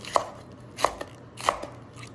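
A knife slices food in half on a cutting board, giving three crisp, evenly spaced chops close by in an otherwise quiet room.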